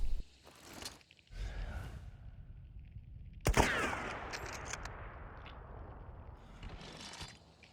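A gunshot from the video game Hunt: Showdown, one sharp loud blast with a long rolling tail, with fainter shot-like bursts before it and a softer one near the end.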